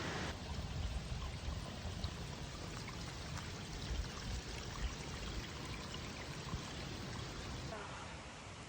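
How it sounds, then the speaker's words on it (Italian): Mountain stream water rushing at the confluence of two streams, one of them iron-rich, near Padola in the Comelico Superiore mountains; a steady, close broadband wash of flowing water fills the whole stretch with no talk. "Qua si incrociano le due acque, acqua che arriva dalla montagna di là, bianca, e acqua ferruginosa di qua."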